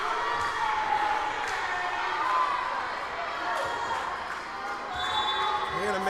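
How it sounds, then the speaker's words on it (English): A high school volleyball crowd in a gym cheers and shouts, rising and falling in loud swells over a busy echoing room, with an announcer talking over it. "you can hear the crowd has gotten back into it"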